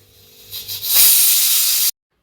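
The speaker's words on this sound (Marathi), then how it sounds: "वरून आता मी तडका दिलेला आहे" Tempering tadka poured over boiled dal in a pot, bursting into a loud, bright hissing sizzle that swells after a few soft sputters and holds steadily for about a second before cutting off abruptly.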